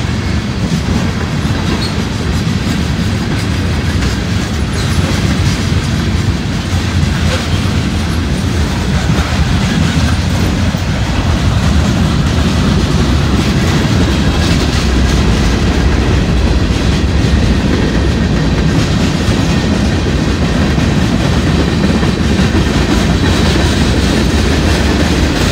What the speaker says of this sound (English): It's a long train, it's still coming around the curve down there.